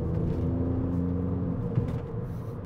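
Ford Fiesta ST Mk8 with its three-cylinder turbo engine running, a steady low rumbling hum with a faint whir, moderately loud and close, no talking.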